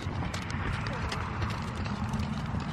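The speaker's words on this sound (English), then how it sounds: "Oh my god, my horse wants to gallop." Horse hooves clip-clop steadily over continuous broadband noise while the horse is being ridden, with faint mechanical rattling mixed in.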